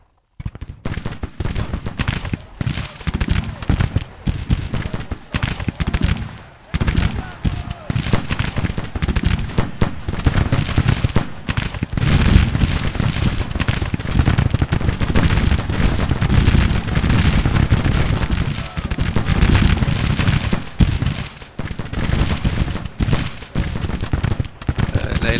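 Dense, continuous musket volleys crackle in a Civil War battle in Grand Tactician, with overlapping shots and booms, loud and sustained, a voice talking underneath.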